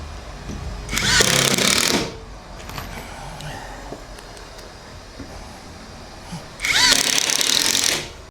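A power drill drives screws into a wooden shipping crate in two loud, close bursts of about a second each, separated by quiet handling noise.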